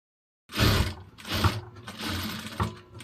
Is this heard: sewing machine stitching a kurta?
yes